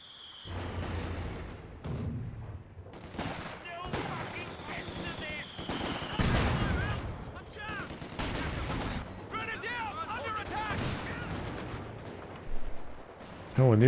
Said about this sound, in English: those mortars going to work